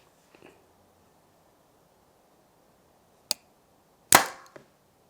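An arrow is shot from a bow: a sharp snap, then a louder release thwack with a short trailing rattle, preceded by faint handling clicks and otherwise quiet.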